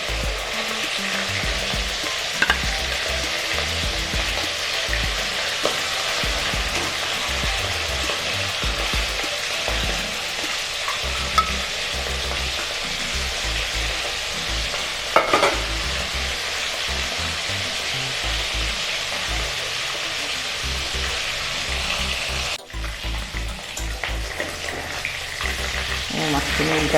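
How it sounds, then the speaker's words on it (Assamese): Fish from a beel fry in a pan of oil with a continuous loud sizzle, broken by occasional scraping and stirring knocks for the whole stretch. "এয়া মোৰ মাছ ভাজি হৈ গ'ল।"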